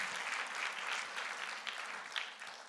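A church congregation applauds in a steady, dense wash of clapping during a worship service, fairly distant and sustained throughout with a few sharper claps standing out near the end.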